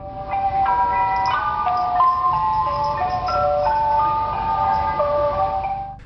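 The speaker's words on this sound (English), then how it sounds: "this demonic ice cream van shows up every single day at his apartment complex" An eerie ice cream van jingle plays a steady, loud melody of clear, chiming tones from a van that comes to an apartment complex every day. The tune runs without a break and no one speaks over it.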